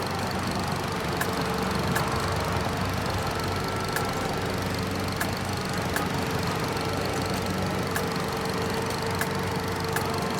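A mower engine in Farming Simulator 22 runs at a steady, even drone, a continuous mid-pitched mechanical hum with faint regular ticks, unbroken and moderately loud with no talking.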